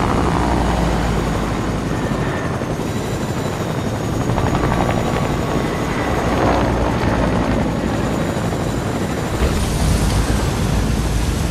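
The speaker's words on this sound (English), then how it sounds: "Seeing what Jing looks like when flying in a helicopter and when driving a war bus" A helicopter in the video game Fortnite flies with a loud, steady rotor thump and engine roar that holds throughout, with slight swells in intensity.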